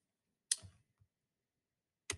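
A couple of sharp, isolated keyboard clicks close to the microphone, separated by a long silent pause, with no voices.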